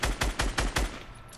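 Automatic gunfire in Fortnite, five rapid evenly spaced shots in just over a second, loud and close, fading into a brief tail with no talk.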